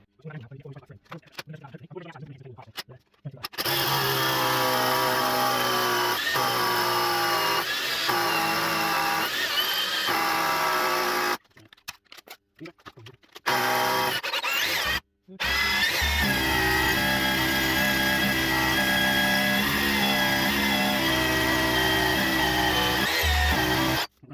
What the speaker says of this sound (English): Coring is all about angles. You just want a nice fall on your drill.